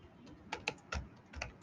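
Keys tapped on a computer keyboard while entering a disk command in Windows: several sharp, close clicks in short bursts and then a pause.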